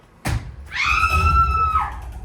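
A person screams loudly in a house: a sharp cry, a brief pause, then a long, sustained high-pitched scream lasting over a second, heard alone and close.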